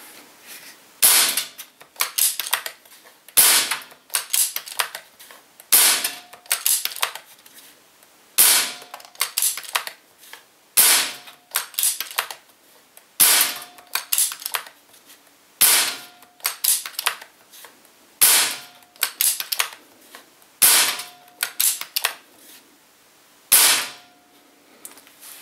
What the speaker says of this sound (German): Ich werde 10 Schuss machen und dann gucken wir einfach mal, wie konstant die Waffe ist und welche Leistung sie hat.